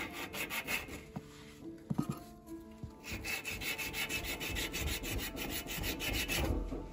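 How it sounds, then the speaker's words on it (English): Emery cloth scrubs back and forth over a metal brake part from a four-wheeler, giving close, steady rasping strokes with a few brief pauses and knocks in between, no talking. "you're gonna use emery cloth on it. Get it get all nice and shined up."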